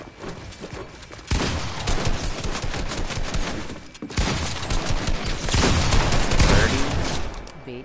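Rapid shotgun blasts in a 1v1 arena video game, loud, close and dense, fired in two long volleys separated by a brief pause.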